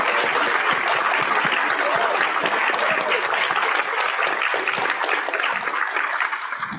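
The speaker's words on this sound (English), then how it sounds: "Can we again get a round of applause for these fantastic student leaders?" Sustained, dense audience applause for student leaders at an opening conference plenary, loud and steady throughout and tapering only slightly at the end, with no voices over it.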